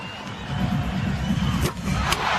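An arena crowd at the 1993 NBA Slam Dunk Contest roaring and cheering in a continuous loud wash, with a couple of sharp thuds cutting through.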